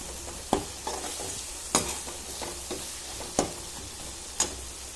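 Masala sautéing in a pan for a garlic kulambu, with a steady close sizzle and about five sharp spatula scrapes and knocks spaced across the stretch; no voices.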